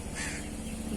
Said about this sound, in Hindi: ये यहाँ पे बैठे हैं दो कौवे जो कि बहुत ज़्यादा शोर कर रहे हैं